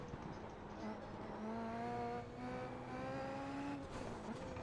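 Super Formula race car braking on the Nordschleife in iRacing, its engine note falling and shifting through the gears with a steady loud drone and faint tire noise, and no talk over it.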